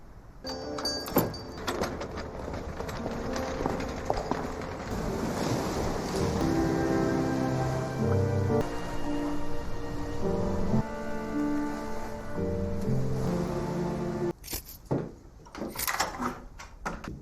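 Waves and wind on a beach in the film Ammonite: a continuous roar of surf and gusting wind under sustained tonal music, with sharp rushing bursts near the start and end.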